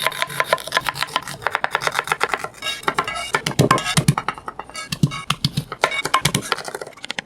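Rapid knife chopping of onion and garlic on a cutting board, a dense run of close, crisp taps with brief pauses and a few heavier knocks, no talking.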